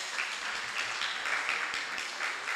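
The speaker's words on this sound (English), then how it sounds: "Give him a round of applause, please, Mr. Ramel Chase." Guests at the opening ceremony of a reading clinic applaud a tutor, a soft, even spread of many hands clapping that continues steadily without speech.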